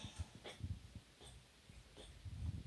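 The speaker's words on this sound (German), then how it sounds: "Diese Schmatzgeräusche hier im Hintergrund sind der Hund, der gerade gefressen hat und sich jetzt putzt." Soft, close wet smacking and licking sounds of a dog grooming itself after eating come in irregular bursts, with quiet snuffling breaths between them.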